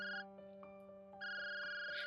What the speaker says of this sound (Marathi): तितक्यात तिचा फोन वाजला